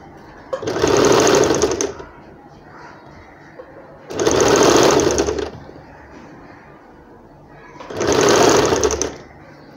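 Three separate bursts of sewing machine stitching, each about a second long with quiet gaps between, as a sleeve is sewn onto a child's umbrella frock; loud, close whirring needle runs starting and stopping in a steady pattern.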